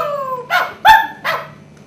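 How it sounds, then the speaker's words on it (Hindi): Dogs bark three times in quick succession, loud and close, with whining, howl-like tones between the barks and no talk over them. "बेवजह कुत्ते क्यों भौंकने लगे?"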